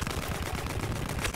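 Gunfire in a Battlefield 1 open beta match, a dense, continuous clatter of shots with rapid rhythmic bursts filling the whole moment, loud and close with no talk over it.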